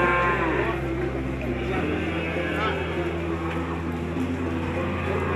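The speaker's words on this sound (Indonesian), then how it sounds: "Sapi PO ya, teman-teman." Peranakan Ongole (PO) cattle on a farm, with a low mooing call and livestock sounds heard close, while a person talks over them throughout.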